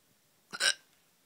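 A single sharp hiccup from a person, a quick close double-pulsed catch of breath, loud against otherwise quiet surroundings.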